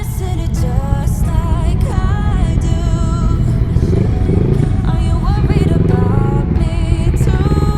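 Several motorcycles in a biker group ride pull in to a stop in the Surrey Hills, engines loud and close, idling and revving with rattling clatter throughout.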